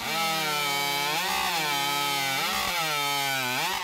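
A modified hot saw chainsaw cutting wood at a lumberjack contest screams loud and close, its pitch dipping and recovering several times as it bogs into the log, with no talking.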